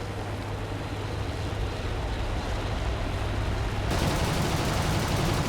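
Bf 109 F4 fighter's machine guns firing in War Thunder, a steady dense rattling burst that runs continuously and grows harsher and brighter near the end, set over a constant low engine drone.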